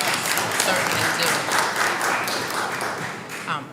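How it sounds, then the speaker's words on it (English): Sustained applause from an audience at a public meeting in the Blue Room of the New York State Capitol, a dense, steady wash of clapping with some voices mixed in. "they deserve a round of applause"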